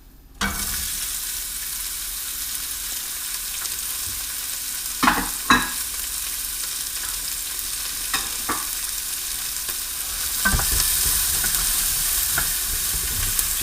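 Onions frying in light olive oil in a pan, a steady crackling sizzle that swells louder as they go in, with a few spoon scrapes and knocks as they are stirred.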